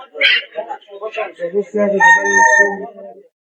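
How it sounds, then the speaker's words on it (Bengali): A rooster crows once, close by, at a busy duck and chicken market in Nalitabari, with people chattering around it. "মুরগি"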